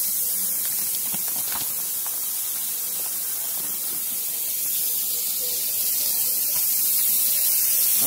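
Strips of bacon, cut in half, sizzle in a pan with a steady, close crackling hiss that holds evenly throughout, with no talking.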